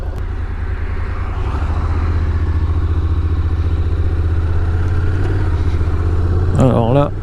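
A Honda NC750X DCT motorcycle pulls away in standard mode, its engine droning low and steady through smooth gear changes, heard close up with a brief chirp near the end.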